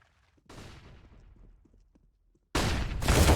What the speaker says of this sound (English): Marquee shuts him down with the FAMAS